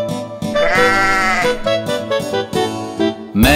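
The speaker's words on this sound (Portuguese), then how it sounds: "Vamos conhecer Memé, a ovelha negra." A black sheep bleats loudly and repeatedly in a children's nursery-rhyme song, its wavering cries close and layered over cheerful music.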